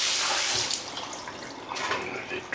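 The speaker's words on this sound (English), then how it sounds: "Cold water, wash it off." Cold tap water runs steadily onto a barramundi fish in a sink as it is rinsed, a close, continuous splashing hiss that eases slightly partway through.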